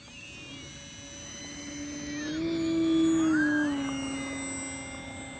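A radio-controlled model plane fitted with a working cockpit whines as it takes off, its motor tone rising and falling as the throttle swells and the plane pulls away, with steady wind and hum underneath.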